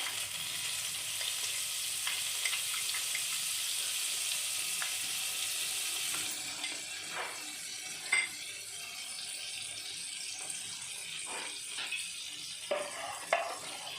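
Butter cooking in a pan for white sauce pasta, a steady soft sizzle with occasional spoon scrapes and light clinks, close but fairly quiet.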